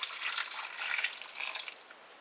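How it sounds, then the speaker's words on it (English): A thick split pea casserole mixture slides and splatters softly into a pan, a faint wet pouring hiss lasting a couple of seconds. "Pour that in the pan."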